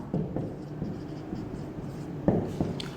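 Chalk or marker scratches and taps on a board in a chemistry class, a close run of uneven strokes with a few sharper knocks and no voices.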